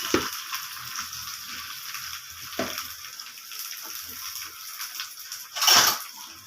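Onions and curry leaves frying in hot oil for a South Indian tempering make a steady close sizzle with soft crackles, swelling into a brief louder burst near the end.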